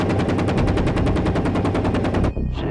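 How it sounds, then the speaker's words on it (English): An M197 20 mm autocannon fires one long, loud, rapid burst of evenly spaced shots, close and dominant, that cuts off abruptly near the end, followed by a brief fading echo. "It's a 20 millimeter cannon."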